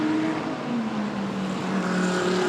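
A Porsche race car at the Spa 24 Hours circuit holds a loud, steady engine drone for the whole stretch, its pitch sliding gradually as it runs through the corners.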